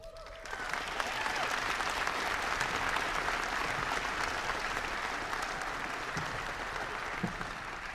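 A large audience at a University of North Dakota School of Medicine and Health Sciences commencement applauds its graduates, a dense, continuous wash of clapping that starts abruptly and holds steady and full throughout.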